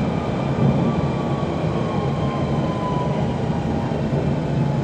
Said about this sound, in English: See the train leaving as well.